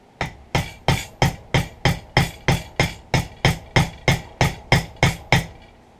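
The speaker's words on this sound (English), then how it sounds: "We'll take the pins, ball peen hammer." A ball peen hammer strikes brass pins in a wooden knife handle, about fifteen sharp, evenly spaced metallic blows in a steady rhythm, close and loud.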